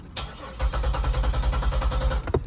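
A Buick engine cranks without starting while its crankshaft position sensor is unplugged. The starter turns over in a fast, even, chugging rhythm for about two seconds, close and clear, and the engine never catches.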